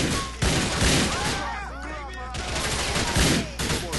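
Shotgun blasts from the video game Grand Theft Auto IV boom in several loud, rapid bursts amid other gunfire and chaotic game noise.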